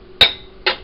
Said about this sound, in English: I'm going to throw the potatoes in too.